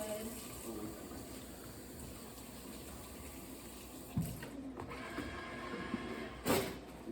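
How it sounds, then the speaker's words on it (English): Tap water runs steadily into a sink while hands are washed, a soft continuous splash with a couple of brief clunks, recorded in a classroom kitchen. "So I'm gonna wash in between my knuckles. Wash my hands really, really good."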